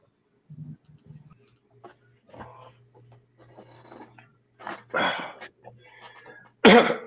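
A person coughs and clears their throat several times in a quiet room, short bursts spaced irregularly, with the last two coughs loudest and sharpest, alongside faint murmured sounds.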